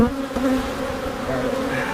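Honey bees buzz around an opened beehive during an inspection, a close, steady, dense hum with shifting pitch throughout.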